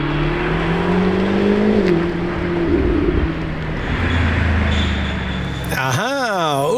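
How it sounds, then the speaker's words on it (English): A Lamborghini Temerario sports car engine runs loudly and steadily, with its pitch climbing and then easing off. Near the end it gives way to a sharp, wavering whine. "Wow, yet another Temerario sound check!"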